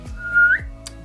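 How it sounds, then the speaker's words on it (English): A single short whistle from a person, a clear rising tone lasting about half a second, close and alone with no talk. "Do not whistle around people."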